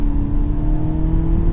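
A 2017 Cadillac CT6 2.0L turbocharged four-cylinder engine drones under strong load while accelerating, with a constant whirring hum and no speech.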